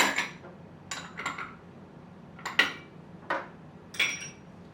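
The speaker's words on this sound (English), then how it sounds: "I'm going to start consolidating these bowls." Ceramic bowls clink and clatter as they are stacked together in a home kitchen, about six separate knocks scattered irregularly, fairly close with a low room hum between them.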